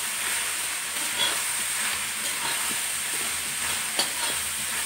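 Salt-squeezed onions are stirred into a dry pan for beef curry, giving a steady hissing sizzle with scattered scraping taps of the spoon, one sharper knock near the end.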